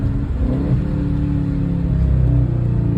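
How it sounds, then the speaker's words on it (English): Engine of a Ram Rampage 300 revving through a downshift, a steady close rumble with rising and falling revs throughout, no talk. "Hold on, let me give y'all one more downshift."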